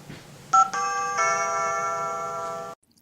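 A 2GIG alarm system door chime for the back door zone plays a clear electronic tone, a short blip then a sustained multi-note ding that rings for about two seconds before cutting off into silence.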